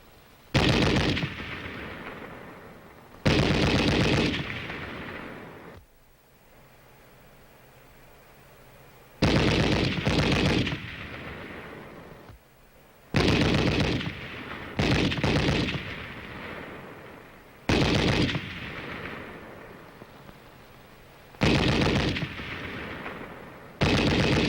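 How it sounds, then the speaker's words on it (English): Army training gunfire: repeated loud, sharp bursts of shots in clusters separated by quieter gaps, with some shots coming in quick doubled volleys, heard close and without talk. "the sound of bullets whizzing overhead and the necessity for keeping close to the ground"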